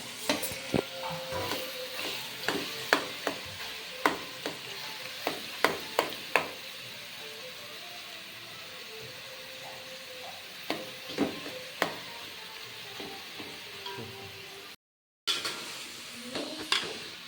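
Food being sautéed in a pan, with a soft sizzle under regular sharp scraping and tapping stirs, close up; a brief silent gap near the end.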